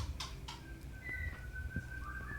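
Birds chirp and whistle in short calls over a low, steady background rumble, with a thin sustained whistle-like tone drifting through.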